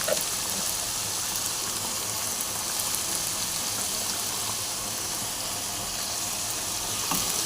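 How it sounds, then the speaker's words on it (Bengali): Steady, even sizzling of spiced prawn masala frying in a pan as papaya is poured in, a close, continuous hiss with faint stirring scrapes and no voices. "এর মধ্যে পেঁপেটা আমি ঢেলে দিচ্ছি সব।"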